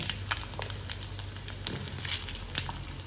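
Small shallots sizzle and crackle in hot oil with popped mustard seeds, urad dal and asafoetida, a steady close frying hiss with sharp pops scattered through it.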